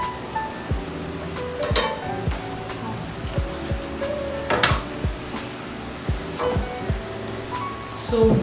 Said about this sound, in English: let's remove the pie from the pan